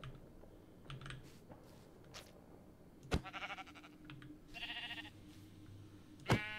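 Sheep in the Minecraft video game bleat in a couple of short harmonic calls, one after the other, amid quiet game sounds and scattered clicks.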